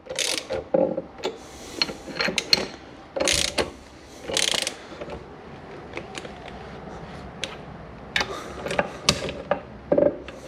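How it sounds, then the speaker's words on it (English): Mechanical clicking and ratcheting from a spinning Rotax 122 engine of an Aprilia RS 125, its bearing squeaking as it slips over the shaft, with intermittent louder bursts of whirring and scraping over a steady background hum. "You're gonna hear it squeaking. That's just the bearing slipping over the shaft."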